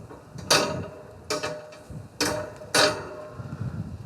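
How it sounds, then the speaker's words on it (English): Metal cooking grates go onto a smoker in four sharp clanks spread over a few seconds, close by, with faint handling noise between the hits. "And now we're putting on our cooking grates."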